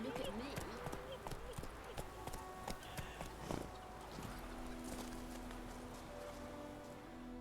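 Roach, Geralt's horse in The Witcher 3, trots with soft, rhythmic hoof clops under patter like light rain, while someone talks over the steady gait.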